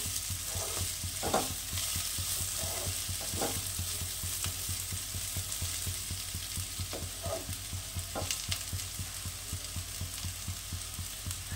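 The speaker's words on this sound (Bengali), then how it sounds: "আমার পেঁয়াজ কলি আলু ভাজা রেডি, নামিয়ে দেবো" Onion stalks and potatoes fry in a pan with a steady, soft sizzle, and occasional stirring scrapes break in at irregular moments, quiet and close, with no voices.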